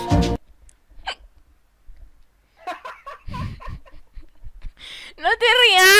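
Several sharp, separate hiccups pop out between bursts of lively talk and a little laughter, close and fairly loud.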